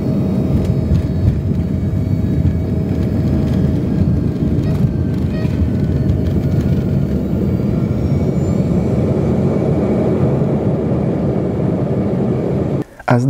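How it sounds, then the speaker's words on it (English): Inside the cabin of an airplane taxiing after landing at Harrisburg on a short flight from Philadelphia, a constant loud engine rumble and airflow roar continues evenly, ending with a brief clunk. "As the plane taxied towards the gate,"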